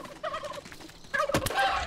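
A turkey in the video game How to Survive 2 gobbles twice, a short warbling call followed by a louder burst with a sharp clicky rattle, with no talking over it.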